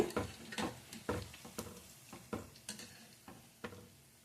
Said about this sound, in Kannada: ಈಗ ಟರ್ನ್ ಮಾಡ್ಕೊಳ್ಳಿ, ನಿಧಾನ ಮೀಡಿಯಮ್ ಉರಿಯಲ್ಲಿ ಫ್ರೈ ಮಾಡಿ.